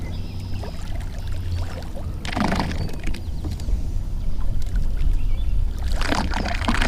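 A Minn Kota trolling motor pushes through weeds, a low churning hum with bursts of splashing and gurgling water as it bogs down, close and continuous.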